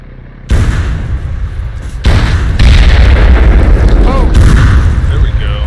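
A large blast in the military game Arma 3 lands with a heavy boom, followed by a second louder detonation and a long, rumbling roar as debris settles, while voices talk over the noise.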